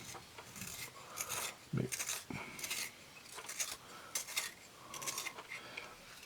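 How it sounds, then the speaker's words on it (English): A 5B drawing pencil is sharpened with quick, rasping scrapes in short irregular bursts, close and fairly quiet, with no speech. "Actually need to sharpen the 5B already."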